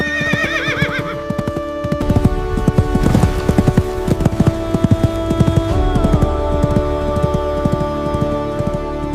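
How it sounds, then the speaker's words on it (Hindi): A ridden horse's hooves clip-clop at a steady trotting rhythm, close and loud, beginning with a whinny and carrying on under background music. "भैया, अब आपको घुड़सवारी शुरू कर देनी चाहिए।"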